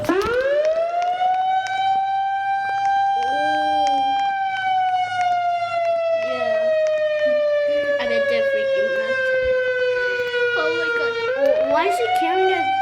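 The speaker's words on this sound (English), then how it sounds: "This is, Andre preparing to, activate the sirens over" A tornado warning siren in Brookhaven winds up from silence to a loud, sustained wail, holding steady, slowly sagging in pitch, then rising again near the end, with faint voices underneath.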